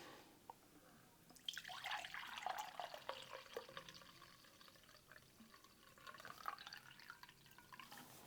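Water drains out of an iSi infusion press, starting with a faint drip, then a close splashing pour with bubbly gurgles that eases off, followed by a second short burst of dribbling near the end.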